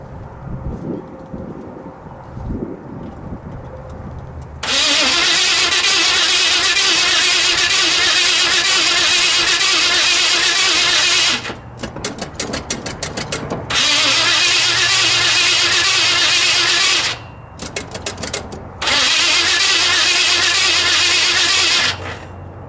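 Engine of a budget-build Chevrolet C10 pickup truck cranking and catching, then running loud and steady in three long stretches separated by short cutoffs and restarts, with quieter shop noise before it starts.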